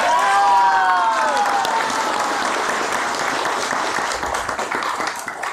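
Loud, sustained applause from a large audience at a motivational business talk, a dense roar of clapping that stays steady for several seconds before thinning slightly, with a brief whistle-like tone near the start.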